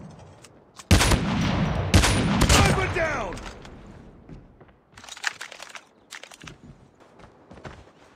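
Gunfire in the mobile shooter Call of Duty Mobile: loud rapid bursts of automatic fire and single shots, then quieter scattered shots and crunching footsteps, with no voices.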